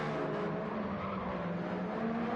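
A race car in the Gran Turismo 7 video game brakes hard into a turn, its tyres squealing in a continuous, close, steady screech over the engine's drone.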